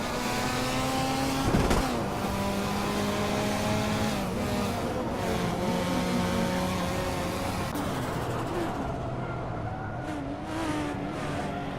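Race cars in a Hot Wheels video game, including an RX-7, roar continuously with layered engine drone, shifting revs and an occasional squeal. The sound is loud and steady, with no talking.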